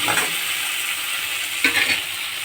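Bamboo-leaf fish fried with sesame in a pan, giving a steady close broadband sizzle with a brief burst of stirring or spattering midway, no voices.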